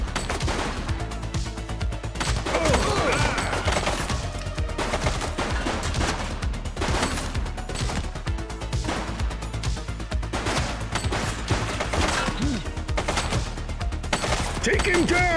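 Rapid, continuous gunfire crackles through a police shootout in the video game The Precinct, with dense repeated shots and bursts throughout, and shouted voices mixed into the action.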